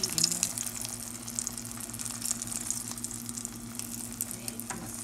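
Food sizzles and fries steadily in a pan, a close, continuous crackle with occasional stirring and light clatter, no voices.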